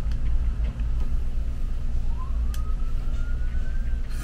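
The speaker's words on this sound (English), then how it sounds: "Fire engine or emergency vehicle already." A fire engine or other emergency vehicle siren passes far off in the morning, a faint rising wail over a steady low rumble of background noise.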